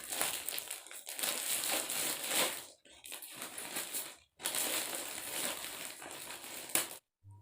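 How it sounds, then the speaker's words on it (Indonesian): Plastic wrapping crinkles and crunches as a Shopee package of dresses is unboxed, in close, loud bursts broken by short silent pauses. "Langsung aja kita unboxing."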